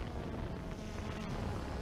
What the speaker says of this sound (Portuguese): Tá ventando horrores